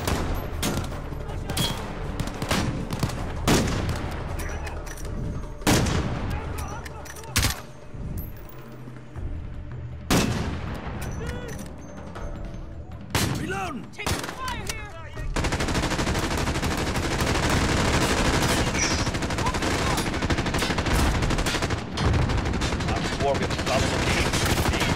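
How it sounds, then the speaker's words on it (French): Machine gun fire in Modern Warfare: repeated sharp bursts of automatic gunfire through the first half, then a dense continuous roar of shooting, loud and close. "Il y a des sulfateuses en contrebas bas devant la maison"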